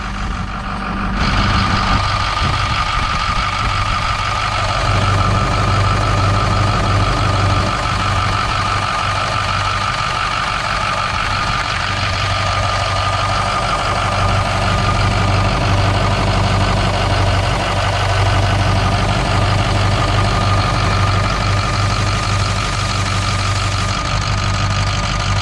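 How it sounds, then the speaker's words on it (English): A 2007 Ford 6.0 diesel engine idles steadily with its turbo disconnected, a loud, continuous low rumble with an even mechanical drone that holds for the whole stretch, with no talking over it. "You can hear the turbo turn off when I disconnect it."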